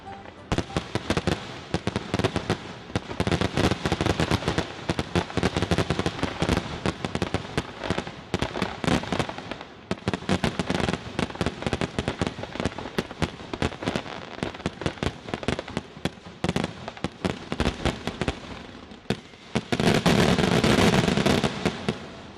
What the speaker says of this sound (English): one of the most exciting fireworks displays anywhere